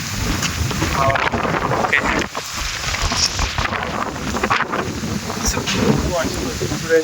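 Sudden strong gusty wind storm rushing and buffeting the microphone before rain, steady and loud throughout, with a voice talking over it at times.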